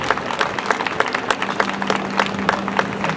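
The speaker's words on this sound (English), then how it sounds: "another round of applause for our Spring Valley State Prison Honor Guard here" Outdoor applause from a crowd at a Veterans Day parade as a prison honor guard passes, scattered, uneven clapping with distinct individual claps over a steady background hum.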